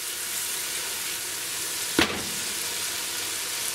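Whole spices frying in a pan for prawn biryani, with tomato and cauliflower, give a steady close sizzle, broken once by a brief clink near the middle.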